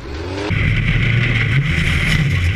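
A formula offroad car with a lightweight Cube chassis and a 4-cylinder 2.4 litre Honda engine revs hard nearby in a loud, steady, climbing roar that rises sharply after a brief lower-pitched start.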